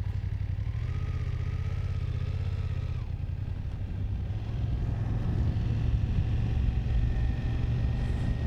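A BMW F900R motorcycle is ridden with a low, steady engine drone that shifts pitch once partway through, under a constant wash of wind noise.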